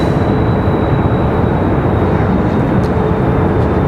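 An airplane at Raleigh-Durham International Airport gives off a loud, steady, broad roar that stays unchanged the whole time, with no talking over it.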